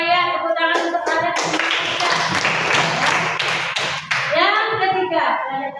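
Children in a classroom break into close, loud, quick clapping that lasts a few seconds, with a teacher's voice and kids' voices before and after it.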